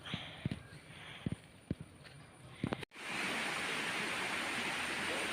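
Water rushes steadily through an irrigation channel, a loud continuous wash that sets in abruptly after a few seconds of quieter outdoor ambience broken by several sharp knocks.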